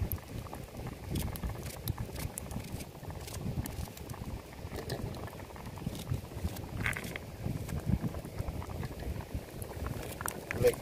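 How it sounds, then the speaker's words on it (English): A pot of coconut milk bubbles over a fire beside a river, producing a steady, soft patter of crackles and pops that carries on throughout at low volume. "Make everything just boil along with the coconut milk"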